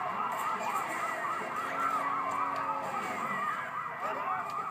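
A police van siren wails in the Sleeping Dogs video game, a steady rising-and-falling electronic tone that holds loud and close for the whole stretch, with no talk over it.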